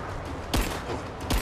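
Gunfire in the video game Rise of the Tomb Raider, two loud, close shots about three quarters of a second apart over a dense, noisy game soundscape, with no talk.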